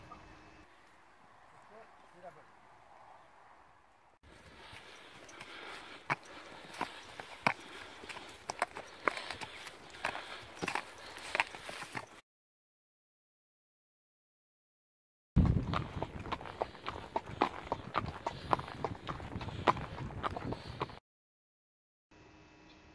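Horses being readied and ridden on a farm path during a Saint-Jacques pilgrimage trek on horseback: steady clip-clop of hooves with shuffling steps, moderately close, in two stretches separated by silence, with people talking over them.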